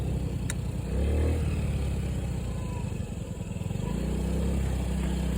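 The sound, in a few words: Black Honda Ruckus moped engine revving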